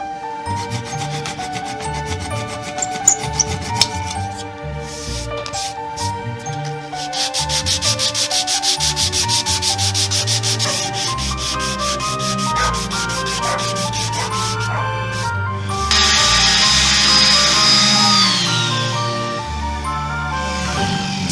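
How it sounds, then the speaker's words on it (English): A rotating, worn 400-grit sanding disc grinds against guitar wood with a continuous, raspy whir that grows harsher and louder toward the end. "This relatively cheap 400 grit sanding disc is getting a bit worn"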